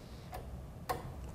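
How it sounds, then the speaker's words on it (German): Two sharp clicks about half a second apart from a toggle switch turning on a vibraphone motor, over a quiet low hum. "Hierzu mache ich den Motor an"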